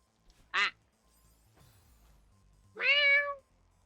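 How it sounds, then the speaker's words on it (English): Cat meow sound effect triggered by a stream channel-point redeem during Celeste gameplay, two separate meows, a short one early and a longer, louder one later, over quiet background. "Thank you for the meow redeem."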